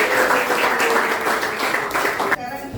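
A classroom of students claps hands together in a steady, dense burst of applause that runs for nearly three seconds, then cuts off abruptly into quieter room noise.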